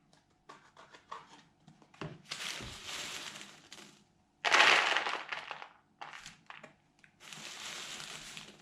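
Dried rowan berries poured and shuffled into a box, bursts of dry crunchy rattling and crackling that come in several uneven bursts separated by short quiet gaps, close and fairly soft.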